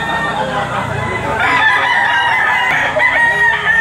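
A rooster crows loudly nearby at a poultry auction market in the Philippines, a drawn-out call rising and falling, with other fowl clucking and faint voices in the background.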